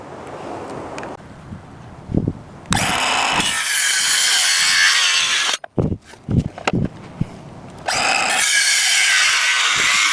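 A power saw cuts wooden legs for an archery target stand in loud, sustained bursts separated by brief pauses and clatter of handling the lumber, close to the microphone, with no talking.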